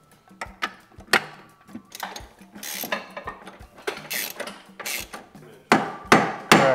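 Sharp metallic hammer blows strike a steel tie rod over and over in an irregular rhythm to free it from the steering knuckle, loud and close, with a few clanks between hits.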